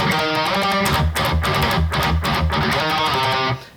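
Distorted electric guitars play an odd, jumping harmony riff, with dense chugging rhythmic hits under sustained harmonized lines, loud and continuous before stopping abruptly near the end.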